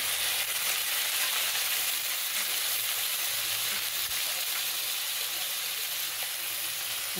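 Boiled cabbage and potato sizzling in a hot tava as they go into a pan of tava pulao with peas and carrots, a steady, close, hissing fry that continues evenly throughout, with no talking.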